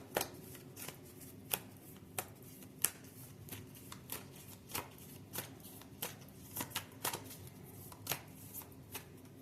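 Cosmic creature oracle cards shuffled by hand in a quiet room, a sequence of soft papery slaps and riffles landing at an uneven pace over low background hum, close but gentle and with no talking.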